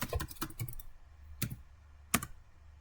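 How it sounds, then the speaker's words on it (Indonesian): Typing a command on a computer keyboard: a quick burst of several close, crisp key clicks, then two isolated single presses after short pauses in a quiet room. "Kita ketikkan perintah IP address"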